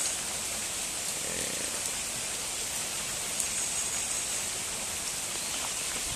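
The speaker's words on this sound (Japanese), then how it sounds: "すごい大雨です" Heavy rain pours down in a steady, dense hiss that fills the whole clip at an even loudness, with no voices or other distinct sounds on top.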